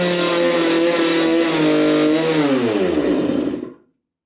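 A 1996 Suzuki RM125 dirt bike engine revs loudly and close, its pitch sagging before it dies abruptly into silence.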